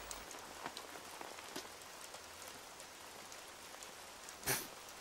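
Steady rain falls on surfaces in a children's program scene, a dense hiss of drops with a brief louder splash near the end, no talking.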